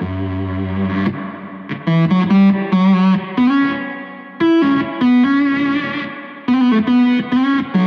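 Electric guitar played through a heavy fuzz effect set for a vintage Maestro-style sound, phrases ringing out with a thick reverb tail between notes, sitar-like at times.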